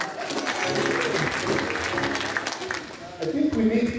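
A congregation claps during a Sunday church service, steady group clapping under talking voices, rising again near the end.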